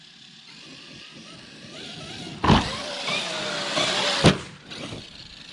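A Traxxas X-Maxx RC car's electric motor whines up and down as the throttle is tapped, a rising and falling high-pitched hum with two sharp bursts, close by.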